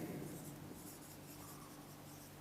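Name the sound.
writing out a sign scheme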